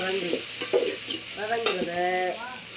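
Chopped tomatoes sizzle in hot oil over browned onions for a goat head curry, with a steady frying hiss and intermittent scrapes of a spoon stirring the pan close by.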